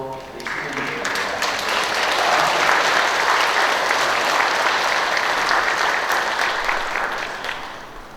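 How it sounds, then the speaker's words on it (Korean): Church congregation applauding a visiting priest at Sunday Mass, sustained even clapping that swells and holds for about eight seconds before easing off, with no talking. "우리 박수로 우리 신부님"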